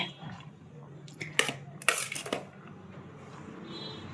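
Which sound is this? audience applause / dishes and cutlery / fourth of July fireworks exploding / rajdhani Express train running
dishes and cutlery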